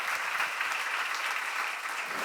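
Worshippers at a Korean church seminar applaud together, a thick, sustained burst of many hands clapping at an even, fairly loud level throughout, with no speech rising above it.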